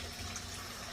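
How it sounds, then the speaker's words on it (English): Dirty water drains out through a hole in the bottom of a newly built pond, a steady, close, even rushing and gurgling flow lasting the whole moment with no voices. "it will let all the water drain out through the bottom"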